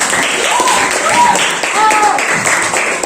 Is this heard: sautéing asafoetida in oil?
no